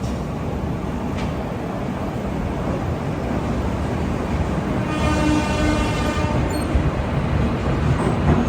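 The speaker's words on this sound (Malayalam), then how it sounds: "അത് MGR ചെന്നൈ സെൻട്രൽ സൂപ്പർഫാസ്റ്റ് ആണ്." A long-distance Indian express train rumbles steadily on the rails, heard close and loud from on board, with a brief horn-like tone rising midway.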